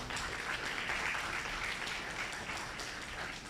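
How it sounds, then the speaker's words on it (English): A forum audience applauds on a panel on Indo-Pacific geopolitics, a steady, moderately faint patter of many hands clapping that carries on evenly for a few seconds. "Why not give all of us a big hand of applause?"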